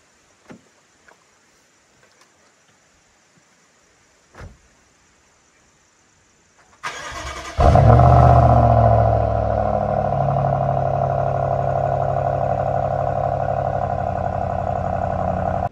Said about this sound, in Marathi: पण आता ही शांतता भंग करणार आहे मी गाडी चालू करून.